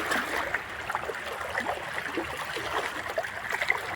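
Water of the Mithoi river flows in a soft, continuous outdoor wash with faint trickling detail, steady and moderately distant, with no talking.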